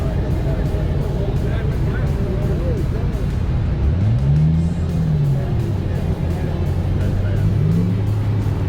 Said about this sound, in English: 1928 Packard. Look at the boat tail on that.